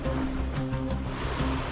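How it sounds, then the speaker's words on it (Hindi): Fast-running stream water in the wilderness, a loud, steady rushing roar close by with no letup, mixed with a low hum. "ये तेज दौड़ता हुआ पानी पीने के लिए बिल्कुल सही है"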